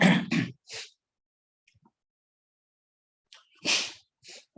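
A man sneezes during a quiet Buddhist teaching session: a couple of sharp, close bursts, then near silence, then a few softer breathy follow-up sounds.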